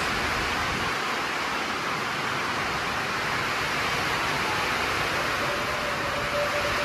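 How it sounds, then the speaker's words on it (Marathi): Steady, dense roar of heavy monsoon rain with wind pouring down without pause, a constant broadband wash of noise with no voices. "जाम जोरात पाऊस"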